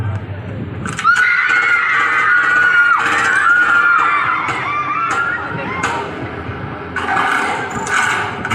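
Crowd screams in a dramatized terror attack in a mountain valley, loud overlapping shrieks and panicked shouts rising and falling, with a second burst of screaming near the end.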